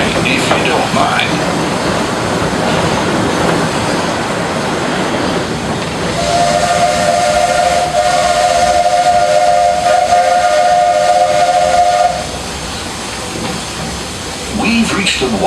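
A steam train whistle on the Walt Disney World Railroad at Magic Kingdom blows one long, steady tone amid continuous loud hissing steam and background crowd noise.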